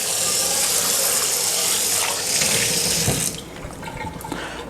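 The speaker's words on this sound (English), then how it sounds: "A little water." Tap water runs steadily into a sink while a cake pan is rinsed, a close, loud broadband splash that drops noticeably quieter near the end as the flow changes.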